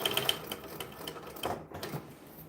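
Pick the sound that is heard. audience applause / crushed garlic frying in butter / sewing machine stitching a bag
sewing machine stitching a bag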